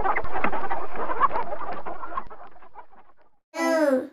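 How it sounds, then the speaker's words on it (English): A hen clucks in a dense, busy run of farmyard clucking that fades away, then after a brief silence gives one louder, sharper call. "H for hen."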